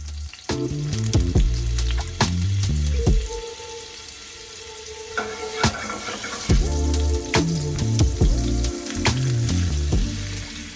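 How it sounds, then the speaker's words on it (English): Salmon fillets dredged in cornstarch frying in a hot pan of oil and a tablespoon of butter, a loud close sizzle with bursts of spattering and clinks of utensils against the pan throughout. "I'm going into a hot pan with some oil and a tablespoon of butter"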